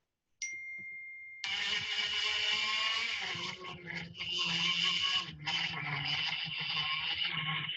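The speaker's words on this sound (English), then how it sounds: "So let's have just a listen to my throttle input." A go-kart engine on a race circuit, steady broadband buzz under load after a short tonal beep, with the throttle stabbed mid-corner so the revs dip sharply twice before picking back up, loud and close.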